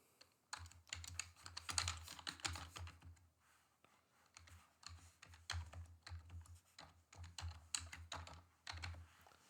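Rapid bursts of computer keyboard typing while a username and password are entered, keys clattering close up in uneven clusters with brief pauses between runs.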